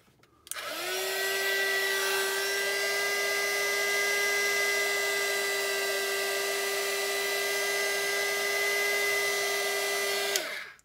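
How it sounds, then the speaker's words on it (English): A heat gun shrinks wrap onto an 18650 battery, switching on abruptly into a loud, steady, high whine that holds for about ten seconds and then cuts off. "Now we're gonna take our heat gun"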